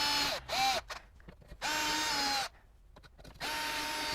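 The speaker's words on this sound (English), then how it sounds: "Now you're drilling through plastic," A power drill bores a 3/8-inch hole through the plastic front lip of a Porsche Cayman 987.2, with three loud whining bursts of steady motor pitch. Each burst sags as the bit bites, and short quieter gaps fall between them.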